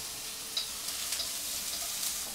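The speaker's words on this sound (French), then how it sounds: "vous mélangez vos nouilles dans le wok avec la courgette" Noodles and courgette stir-fried in a wok give a steady, close hiss of sizzling with small scraping and stirring clicks, continuing evenly throughout with no voices.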